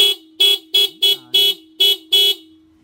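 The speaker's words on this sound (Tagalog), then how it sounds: "Busina." A vehicle horn honks seven times in quick short bursts, loud and close, during a test after repair at a roadside shop; a voice briefly calls out partway through.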